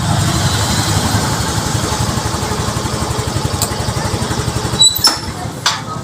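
A motorcycle engine idles steadily close by, its low rhythmic putter continuous throughout, with a couple of brief clicks toward the end.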